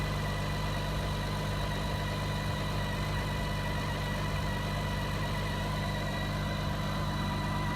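A 2011 BMW K1600 GTL motorcycle engine idles at a steady, even hum close by, with a constant low throb and no talking, holding unchanged for the full stretch.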